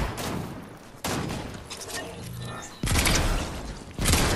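Rapid gunfire in several loud, close bursts separated by brief gaps, each volley crackling and echoing in a chaotic shootout.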